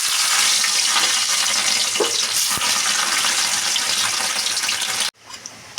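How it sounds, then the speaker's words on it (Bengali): Paneer cubes fry in refined oil in a wok, giving a steady bright sizzle that runs for several seconds before cutting off abruptly near the end. "চলো এবার পনিরগুলো ভেজে নিই"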